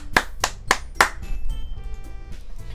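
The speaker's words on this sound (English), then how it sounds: "The four of us applaud." Applause from four characters in the Doki Doki Literature Club visual novel, four crisp, evenly spaced claps in quick succession followed by a soft lingering game tone, with no voices.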